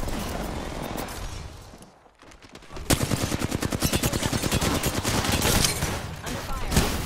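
Rapid automatic gunfire in Apex Legends, a dense rhythmic burst of shots running steadily for several seconds after a brief lull, loud and up close among other game sounds.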